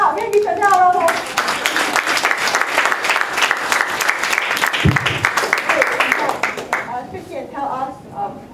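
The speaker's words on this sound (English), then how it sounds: "Can we give Chantel a round of applause?" A crowd at an entrepreneur summit in Kuala Lumpur gives a round of applause, the close clapping of many hands running for several seconds while people talk before and after it.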